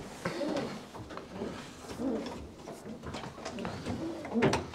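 Pigeons in an indoor breeding loft with single pens, giving low soft cooing calls that overlap continuously, with faint shuffling and clicks in the room.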